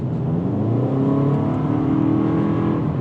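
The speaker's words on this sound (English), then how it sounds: "it's holding the RPMs at a higher range, closer to the power band" A 2019 Toyota RAV4 engine held at high RPM in sport mode, a steady loud interior drone with rising harmonic tones, continuous and close with no talking.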